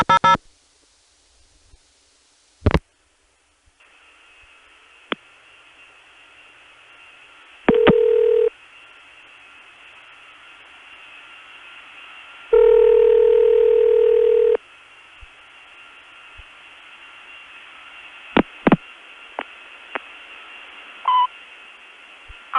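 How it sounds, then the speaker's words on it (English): A long-distance telephone call to a vacant number in Buffalo's 644 office: clicks and dialing pulses, a steady hum of line noise, two bursts of tone and scattered switching clicks, with no voices. "Here's one more call to the Buffalo 644 office"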